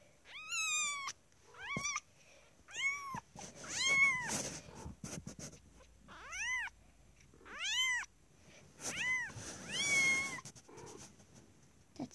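A cat meows repeatedly, a series of rising and falling calls with short pauses between them, close and fairly clear.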